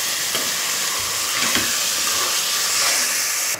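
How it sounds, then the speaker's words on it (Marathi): Seven or eight finely chopped onions sauté in hot oil for street-style pav bhaji, giving a loud, continuous sizzling hiss that fills the whole stretch with no talking. "हे तेलावर आपण परतवून घेतोय।"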